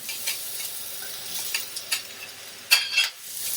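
Onions frying in olive oil in a pan for a crustless quiche, a soft steady sizzle punctuated by a few sharper stirring scrapes and utensil clicks, no voices.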